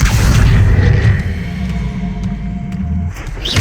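A fiery blast from the Confringo spell in the game Hogwarts Legacy, heard as a loud, sustained booming roar with dense low rumble that holds for several seconds before easing off near the end.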